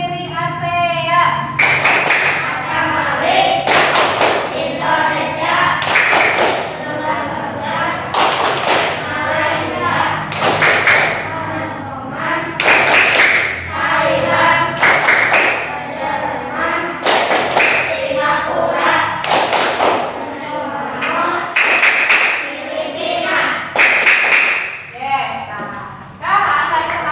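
A class of schoolchildren claps a steady rhythmic pattern while chanting a song about the founders of ASEAN, loud repeated hand claps in regular beats running throughout under their chanting voices.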